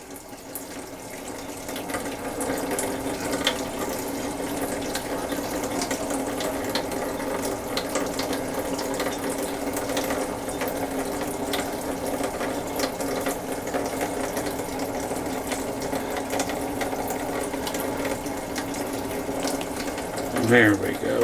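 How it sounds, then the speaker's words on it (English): Tap water running steadily into a small mead airlock, a continuous close splashing rush for about twenty seconds with a brief louder gurgle near the end. "fill it with a little bit of water"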